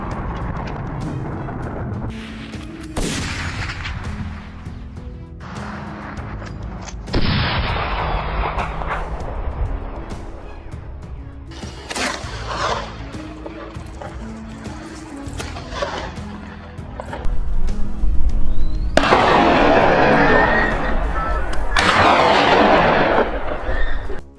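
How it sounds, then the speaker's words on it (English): Rifle shots during a wild boar hunt on Moroccan farm hillsides, a series of loud sharp cracks with booming echoes spaced irregularly over a low outdoor background. "Gunshots cracked through the air"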